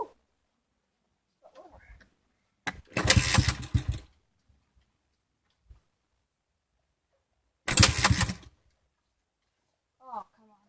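A Honda CRF 110 motorcycle tries to start from cold, with two loud, short engine bursts that sputter and die between long silences and faint noises.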